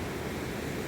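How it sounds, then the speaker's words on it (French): A small waterfall at Le Saut du Brame near Lussac-les-Châteaux gives a steady, close, broadband rush of falling water with no break and no voices. "Petite cascade."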